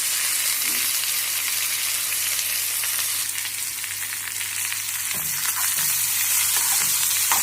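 Bitter gourd fries in a pan with a steady close sizzle and hiss, punctuated by a few soft stirring scrapes toward the end.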